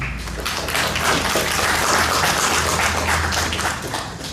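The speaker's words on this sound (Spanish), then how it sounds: "pido por favor un voto de aplauso para Juan Gabriel" A seated audience breaks into loud, dense applause for a speaker at a business talk, a sustained wash of clapping heard up close that stays strong throughout, with no voices on top.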